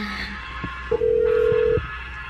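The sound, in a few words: telephone call dialing and ringing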